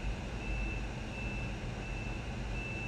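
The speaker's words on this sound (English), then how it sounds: "I heard like a beeping sound" A steady high-pitched beep repeats at an even pace over a constant low rumble, like a vehicle's reversing alarm heard from a distance.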